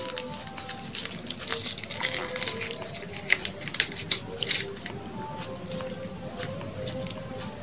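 Soft squishing and sticky mixing of cookie dough with sweetened condensed milk, close and quiet, with irregular wet squelches and light scraping strokes.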